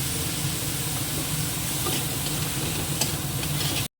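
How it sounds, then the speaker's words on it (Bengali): Onions fry in oil in a pan, giving a steady, dense sizzle that continues evenly at close range with no talk, then cuts off abruptly at the end. "পেঁয়াজটা একদম ভালো করে ভাজা হয়ে গেছে"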